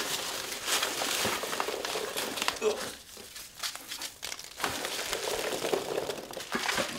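Packaging around a MEGA65 DevKit computer is unwrapped close up, with continuous crinkling, rustling and crackling of plastic and paper. A brief quieter moment falls midway.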